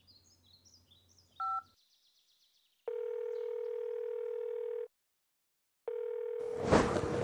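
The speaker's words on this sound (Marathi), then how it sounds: "बघ नाव घेतलं आणि फोन आला" A mobile phone rings with a short electronic beep, then two long, steady, loud ring tones separated by a pause, with faint bird chirps early on and a burst of noise near the end.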